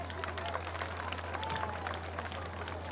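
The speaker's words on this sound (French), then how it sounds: "Applaudissez-vous les enfants." Children applauding at an event in Côte d'Ivoire, a dense wash of many small claps heard from a distance over a steady low hum, with faint crowd voices mixed in.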